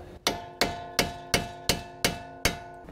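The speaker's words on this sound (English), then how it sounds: "you wanna take a thin chisel or screwdriver, and we're gonna pop that up and unlock it" A hammer strikes a thin chisel against the axle nut keyway on a 2002-2006 Toyota Camry during front wheel bearing work: seven evenly spaced, sharp metallic blows, each ringing briefly before the next.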